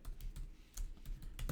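Quick bursts of keystrokes on a computer keyboard while a file name is entered, light clacking taps in an irregular rhythm, close and fairly quiet with no voices.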